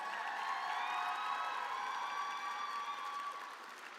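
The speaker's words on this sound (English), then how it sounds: "they're standing up. Give them a round of applause." An FFA association session audience applauds its state officers, a sustained wash of clapping with faint cheers from a large crowd that tapers slightly at the end.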